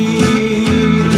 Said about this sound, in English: This is total Bakersfield sound right here.